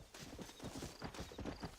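Horse hooves clip-clop at a steady trotting rhythm in the Red Dead Redemption video game, continuous and fairly close over a low background hum.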